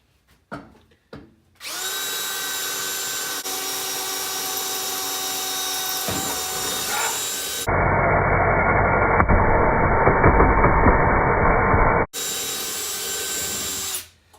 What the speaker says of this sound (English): Drill bit, drill